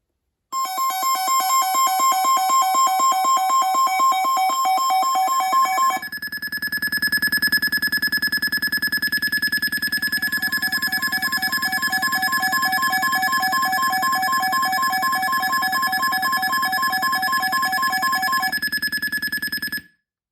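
An iLuv iMM183 weather radio sounding its alarm: a loud, continuous electronic tone that shifts to a different pitch pattern after a few seconds and then holds for about twenty seconds before cutting off.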